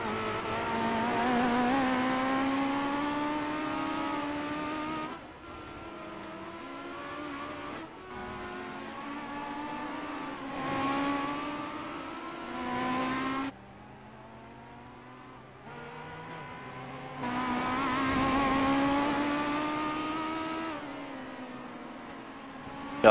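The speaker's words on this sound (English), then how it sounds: "1934 Ford Legend Coupe." A 1934 Ford Legend Coupe race car engine revs hard and loud, its rising harmonic pitch repeatedly climbing through gears in several bursts with brief lifts between, close and alone.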